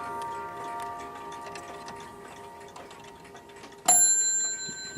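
A Waterbury clock ticks in a steady, even rhythm nearby, then a single bright bell strike rings out loudly near the end.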